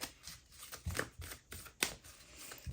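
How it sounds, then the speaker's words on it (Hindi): Tarot cards being shuffled at close range, several quick rustling riffles and soft slaps spaced across a short, quiet stretch, without any talking. "Let's shuffle more."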